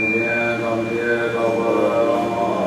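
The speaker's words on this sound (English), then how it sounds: "those are Tibetan bardo prayers, and they are chanted at the time of somebody's passing" Recorded Tibetan bardo prayers, chanted at the time of someone's passing, play back as a low droning chant of several voices, steady and moderately loud with a faint high whine.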